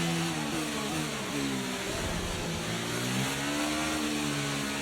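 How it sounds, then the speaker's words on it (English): F1 car in the F1 23 racing game bottoming out, a steady loud engine drone with shifting harmonic pitch and a rougher scraping burst in the middle, no talk. "Yeah, the car's bottoming out."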